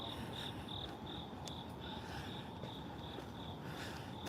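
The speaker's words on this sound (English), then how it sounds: "The crickets are chirping." Crickets chirp steadily in repeated high pulses over a constant low rumble of background noise, with no voices.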